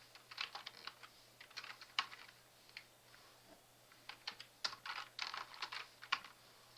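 Numbers being typed on a computer keyboard, quick bursts of close, crisp key clicks with short pauses between groups, heard alone over a faint low hum.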